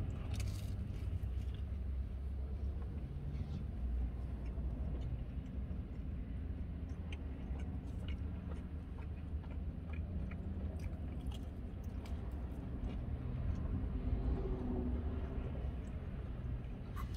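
Steady crunching of a crisp crust being bitten and chewed close to the ear, continuous and textured with faint background noise.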